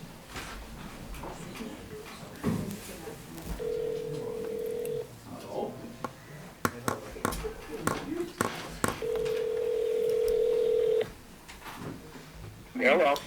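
A phone call is dialed on speakerphone during a town selectboard meeting: two long steady dial tones with a quick run of keypad beeps between them, set against room noise, shuffling and a few voices.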